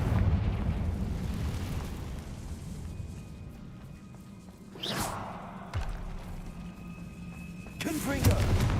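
Blasting-curse explosions from the Confringo spell in Hogwarts Legacy: a whooshing burst near the middle, another sharp blast a second later and a further burst near the end, over continuous rumbling and talk.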